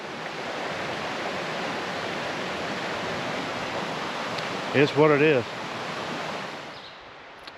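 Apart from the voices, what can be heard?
creek water flowing during a hike crossing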